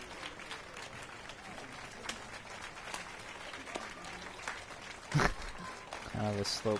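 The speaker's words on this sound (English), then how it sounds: "Kind of a slow clap." A crowd in The Witcher 3 gives a slow clap, scattered hand claps spaced out under the game's ambient noise and talk, faint and somewhat distant.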